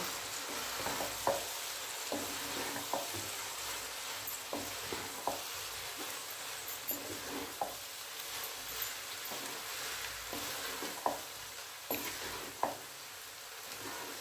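Boiled pasta and fried vegetables are stirred together in a pan over a low gas flame: a soft, steady sizzle broken by repeated scraping and tossing strokes, close and fairly quiet.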